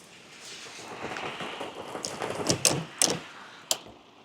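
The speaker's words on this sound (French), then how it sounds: "Pas la petite pluie." Heavy rain pours steadily in Spain after the DANA storm, a close, continuous hiss broken by a few sharp knocks or spattering impacts.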